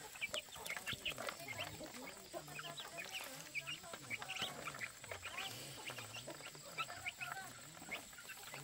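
Chickens cluck and squawk busily while being fed, many short calls overlapping in a continuous chatter, fairly close, with no clear voices.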